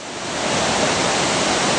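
A mountain waterfall beside a pilgrim trail near Rambara thunders in a loud, steady, close rush of water with no voices.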